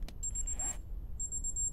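A timer sends out short, high, steady electronic beeps in two bursts separated by a brief pause, fairly quiet, with soft clicks and low background noise.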